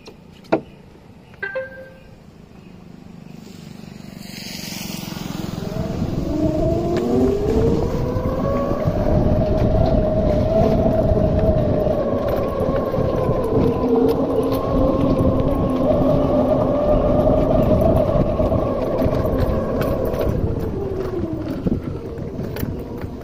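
An Ather 450X electric scooter climbs an incline; its motor whine swells and holds steady for about fifteen seconds with wind rush beneath, then eases off near the end.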